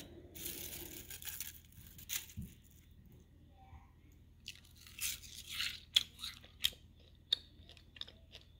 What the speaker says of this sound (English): Here you have crunchy onion rings.